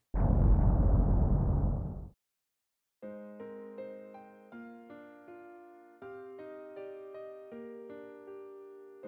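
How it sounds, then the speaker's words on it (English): A distant explosion in a visual novel game, a broad rumbling burst lasting about two seconds that cuts off into silence, followed by gentle piano notes played one after another. "The sound of an explosion."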